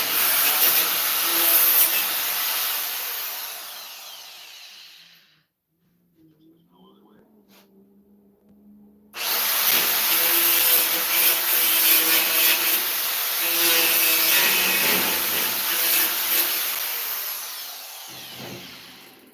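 Power tool trimming metal and throwing sparks: a loud, steady high-pitched grinding whine that stops for a few seconds, then starts again and runs on, close by, with someone talking briefly in the gap.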